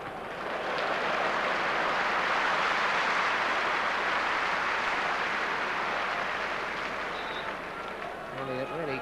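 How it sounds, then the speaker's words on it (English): A Newcastle football crowd at a 1993-94 Premier League match against Swindon Town breaks into loud, sustained applause and cheering for a well-timed tackle, a dense roar of clapping that swells and holds before tapering at the end. "Elliott really getting applause every time he makes one of these well-timed tackles"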